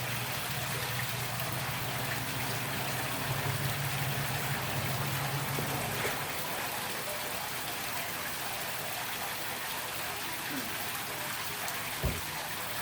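Artesian water from a flowing well in a park filling jugs, a continuous hissing, splashing stream with a low hum early on, steady and close, ending in a single knock.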